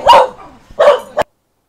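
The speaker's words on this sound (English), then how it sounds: "Pups were barking at something." Young dogs bark close by and loudly: two sharp barks are followed by a short clipped yip, and then it goes quiet.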